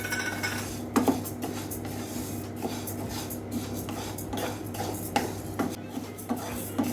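Urad and moong dal dry-roast in a pan over medium heat while a spoon stirs them, producing irregular metallic clinks and scrapes against the pan over a low steady hum, close and fairly quiet, with no talking.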